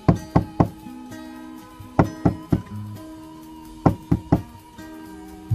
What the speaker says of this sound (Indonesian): Ia kemudian mengetuk-ngetuk beberapa kali.